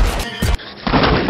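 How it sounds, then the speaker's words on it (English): Several sharp, loud bangs crack out in quick succession, separated by a brief lull, with a noisy, busy background. "Gunshots!"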